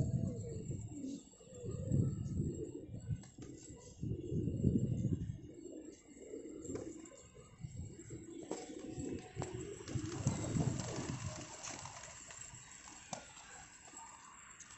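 Fighter pigeons coo softly and repeatedly in low, rounded murmurs, with light background rustling and occasional faint chirps throughout.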